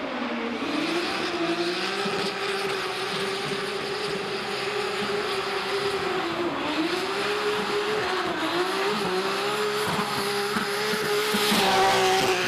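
A D1NZ Pro-Championship drift car at Baypark Stadium screams along the wall, its engine holding a loud sustained wail with shifting pitch while the tyres squeal steadily through the whole run.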